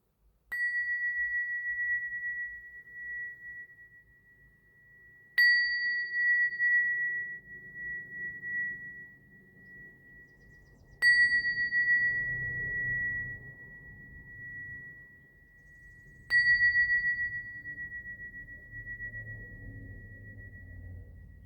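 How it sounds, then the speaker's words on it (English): Bells are rung during a new moon energy-clearing ritual. Four single bright strikes come several seconds apart, each leaving a long, clear ringing tone that fades slowly over quiet background rustling. "I'm going to ring a little bit of the bells right now to clear out some energy."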